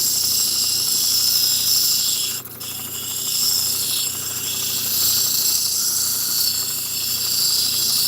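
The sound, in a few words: lapidary wheel grinding the edge of a rock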